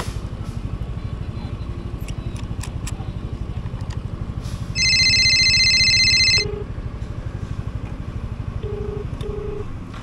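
A mobile phone call placed from inside a running vehicle during a delivery job: a short dialing chime, then a long electronic tone burst, then two short ringback beeps, all over a steady engine rumble.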